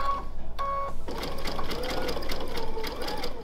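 A sewing machine stitches straight over raw-edge appliqué on a mini quilt, its needle running in a fast, steady rapid patter close up after a couple of short starts.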